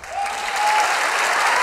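An audience at a live comedy show applauds in a dense, steady burst of clapping that holds for the whole moment without pause.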